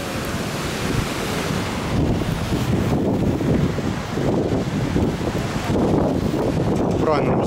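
Strong, steady wind buffets the microphone on the seaside promenade in Alanya, a continuous low roar with surf-like gusts rising and falling throughout, close and loud with no talk over it.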